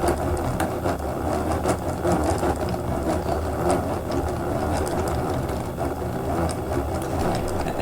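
A yarn cake winder turns steadily as it winds yarn, giving a continuous close mechanical whir with rapid ratchety gear clicking throughout and no voices.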